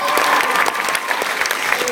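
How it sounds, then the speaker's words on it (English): An audience claps steadily throughout, a dense, even round of applause heard at moderate distance with no voices on top. "Give them a round of applause."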